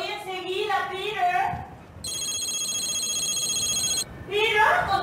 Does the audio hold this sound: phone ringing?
yes